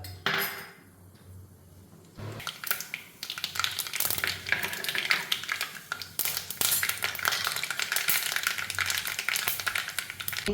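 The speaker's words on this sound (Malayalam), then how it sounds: "എണ്ണ ചൂടായിട്ടുണ്ട്. നമുക്ക് ഈ കടുക് ഒന്നിട്ട് കൊടുക്കാം." Mustard seeds spluttering in hot sesame oil while making a dried mango pickle, a quiet start giving way to dense, busy crackling and popping that keeps on steadily, close by.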